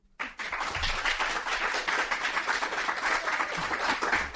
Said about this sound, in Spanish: A ver que se note el público. Un aplauso.